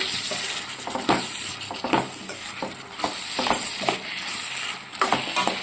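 A mixed vegetable curry is stirred in a pan, the spoon scraping and clattering in repeated strokes over a steady sizzle of frying, close and fairly loud with no talking.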